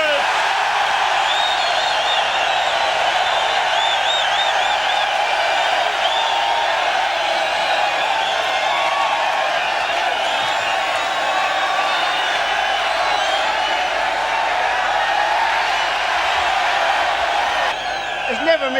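A large motorsport crowd roars and cheers for the winning drivers of an endurance touring car race, a dense steady wall of voices and whoops that holds loud throughout, with an announcer talking over it.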